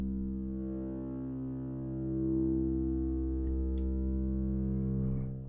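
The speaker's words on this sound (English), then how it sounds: "if we lower the cutoff a bit, we'll get much smoother tones" A Korg Monologue synthesizer with its filter cutoff lowered holds a sustained tone with a smooth, dark timbre, steady with a slow swell in loudness and rich low harmonics.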